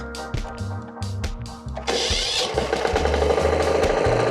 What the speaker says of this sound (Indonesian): Sekarang kita hidupin dulu mesinnya ya